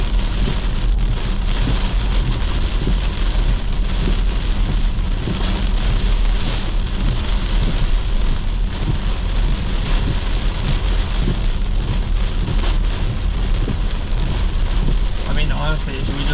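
Heavy rain pours down in a severe thunderstorm during storm chasing in northern Iowa, a dense and loud continuous hiss of drops striking surfaces, with wind in the background and no distinct thunderclap.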